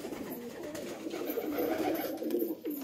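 A pet pigeon coos steadily and close by for the whole stretch, a continuous soft murmuring call with no voices over it.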